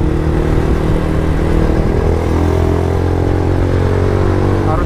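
A Yamaha Vixion motorcycle rides along a rough, potholed road between factories, its engine droning steadily and loudly close by with a constant mid-range hum and road rumble throughout.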